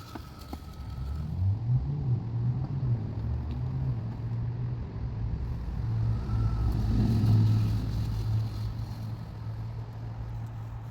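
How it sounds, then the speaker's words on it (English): Steady traffic from a busy road beside a backyard fence: a continuous low rumble of passing cars and trucks, swelling slightly mid-clip, with no talk. "We have the busy road right next to our backyard fence, so don't confuse the traffic noise with it."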